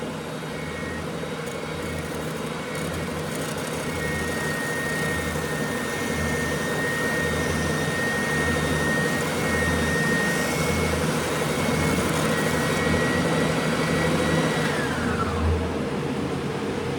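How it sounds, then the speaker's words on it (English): An oscillating spindle sander with dust collection runs with a loud, steady motor whine and airy roar that holds for most of the stretch, then winds down with a falling pitch near the end. "And this one moves up and down as well, like that oscillating spindle sander."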